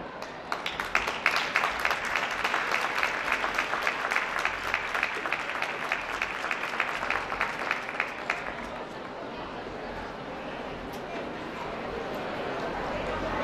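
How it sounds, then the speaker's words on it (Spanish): Loud, sustained applause from a large audience at a carnival awards ceremony, dense clapping that thins out and fades into crowd murmur toward the end. "fuerte el aplauso para todos"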